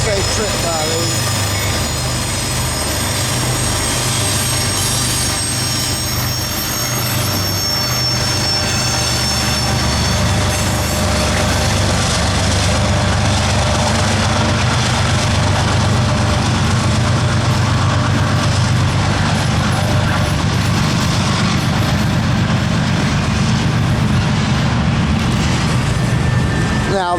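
A long CSX manifest freight of empty rack cars rolls southbound past Dalton behind ES44 and AC44 locomotives, a loud, steady close rumble with wheel squeal throughout and some voices underneath.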